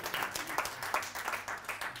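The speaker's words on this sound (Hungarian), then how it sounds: "szerintem egy tapsot megérdemel a Krisztián," A church audience applauds a participant after a demonstration during a sermon, a fairly faint patter of clapping with uneven, rhythmic bursts and no talk over it.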